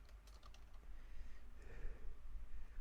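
A computer keyboard being typed on, a handful of soft, quick clicks near the start followed by faint low background rumble, quiet and close.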